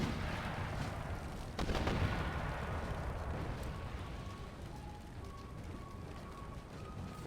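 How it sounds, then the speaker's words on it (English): Mortar fire in an Empire: Total War battle, with a heavy boom near the start followed by rolling, rumbling blasts and a continuous noisy battlefield roar that fades gradually. "Now they've changed the mortars to be shooting back here"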